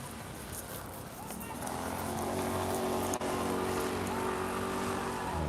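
Steady rain falls on a Brooklyn city street, a dense even hiss that swells after the first two seconds and holds, with traffic rumble beneath and a voice talking over it.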